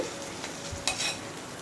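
Lentil paste frying in a little white oil in a wok, a continuous close sizzle with a few soft stirring scrapes and one brighter clink midway, no voices.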